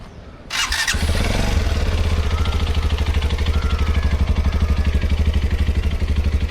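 A TVS Apache RTX 300 motorcycle starts with a sharp crank and settles into a loud, steady, close idle with an even throbbing exhaust pulse, no voices present.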